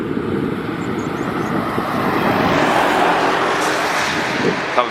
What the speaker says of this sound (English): That was a lorry going past.